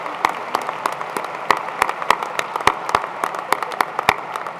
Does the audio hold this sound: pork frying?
no